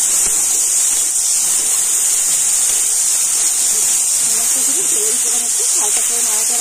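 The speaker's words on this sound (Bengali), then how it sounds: "দেখুন টমেটো ভাজা করে দিয়েছি" A tomato frying in a pan with whole cumin and whole garam masala, a loud, steady sizzling hiss that runs without a break, with a voice faintly audible toward the end.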